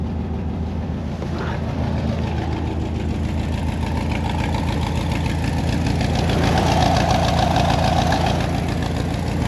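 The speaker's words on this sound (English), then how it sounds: "Engine sounds good." A 1967 VW Beetle engine idles steadily with a rhythmic, chugging low-pitched putter, close and loud, running continuously with no talking.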